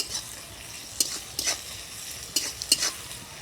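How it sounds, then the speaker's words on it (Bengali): Onions frying with salt in a pan make a soft, low sizzle, punctuated by a few quick scraping stirs of a spatula against the pan, no voices. "পেঁয়াজটাকে হালকা লাল করে ভেজে নিব"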